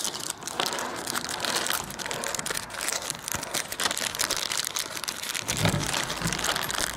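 Close crinkling and crunching of packaging being torn open around LED 194 twist-lock bulbs, a continuous rustle lasting several seconds with a dull thump near the end.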